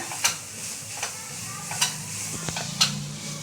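Ground coconut paste being stirred into frying onions for a banana stem stir-fry, with a spoon scraping the pan in a few distinct strokes over a soft steady sizzle.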